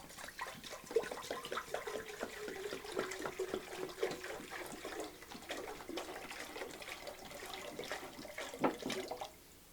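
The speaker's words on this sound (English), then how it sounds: "Of course, we want to add cold water." Cold water poured from a tap or jug into a pot of chopped sage and vegetables for a consommé, a steady splashing stream running the whole time with small clinks near the end, no talk.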